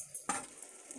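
Dandelions deep-frying in oil give off a faint sizzle, broken by one sharp clatter and a burst of crackling as they are flipped in the pan.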